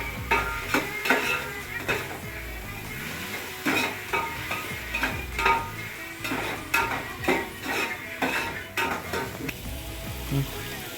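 Tomato and onion roast in a pan under repeated stirring, with steady sizzling and frequent rhythmic scrapes and clinks of a utensil against the pan, close and fairly loud.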